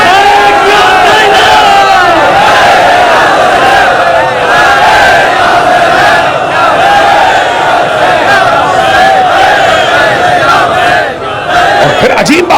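A huge crowd at a Shia majlis for Youm-e-Ali in Nishtar Park, Karachi, chants slogans in loud unison, a dense sustained roar of many voices with rising and falling waves that carries on for the whole stretch.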